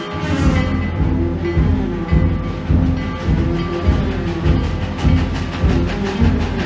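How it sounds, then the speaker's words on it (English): Train passing in a 1985 TV drama scene, a steady loud rumble with rhythmic clickety-clack beats from wheels crossing rail joints, continuous and close with no talk. "So here's Ori and George waiting for the train"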